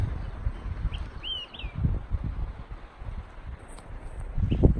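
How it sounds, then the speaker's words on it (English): Wind moving through pines on a San Jacinto mountain trail at morning, a soft steady rush with low gusty rumbles, while a few faint bird chirps and whistles sound in the distance. "Love the sound of the wind in the pines and the birds in the morning."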